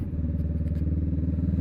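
A motorcycle engine throbs steadily with a rhythmic low pulse while riding through summer traffic, loud and close with a faint clattering rattle over the top and no talking.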